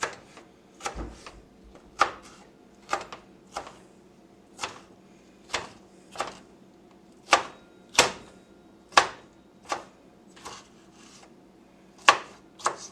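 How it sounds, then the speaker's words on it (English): Knife chopping tomatoes and garlic on a cutting board, with a dozen or so crisp, evenly spaced chops close up and no talking over them. "I'm doing all of my chopping first"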